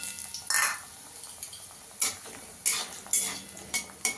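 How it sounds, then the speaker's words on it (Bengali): Lentil badi fry in oil in a kadai: a soft background sizzle broken by sharp, repeated scrapes and clinks of a spatula against the pan, about one every half second. "আগে বড়িগুলোকে ভেজে নেব।"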